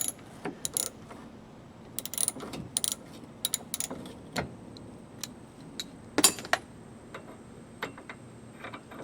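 Hand ratchet loosening a T50 security Torx bolt on a 1997 Jeep Wrangler roll bar, with sparse, quiet clicks and metallic clinks in irregular bursts at close range.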